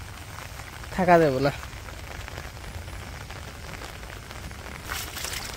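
Steady rain patters down in a Bangladeshi village during the rainy season, a continuous soft hiss, while a voice briefly speaks early on.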